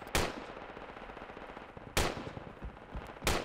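Gunfire in the military shooter game Project Reality: three loud, sharp gunshot blasts spaced about two seconds and then one second apart, each with a ringing tail over steady background rumble, no voices.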